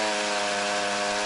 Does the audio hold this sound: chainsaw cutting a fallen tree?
yes